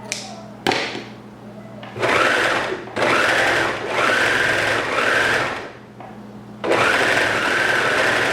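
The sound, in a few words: overlocker sewing a maxi skirt waist with elastic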